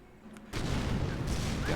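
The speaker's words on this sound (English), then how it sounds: "He's going to send a barrage right there." Artillery barrage in Company of Heroes: a quiet lull, then a sudden heavy rumbling roar of shelling that holds at high level to the end, dense and continuous.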